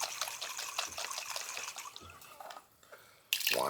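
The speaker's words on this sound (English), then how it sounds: "I like to just rinse these out a little bit with some water." Water runs and splashes inside a container for a few seconds, a close, trickling rinse that briefly quiets before a louder gush at the end.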